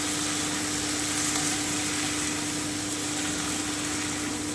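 A dense, steady sizzle of prawns frying in a pan, loud and continuous throughout with no voices.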